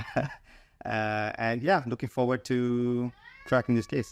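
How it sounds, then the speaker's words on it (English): A pet cat meows loudly and repeatedly, with drawn-out rising and falling cries, alongside someone talking indoors. "Excuse my cat. He's also quite excited to do the case."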